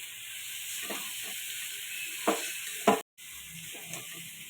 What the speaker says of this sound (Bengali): আমি রেডি করে রাখা মশলাটা দিয়ে দিচ্ছি। টক দই, গোটা জিরা, মশলাটা ভালো করে কষিয়ে নিব।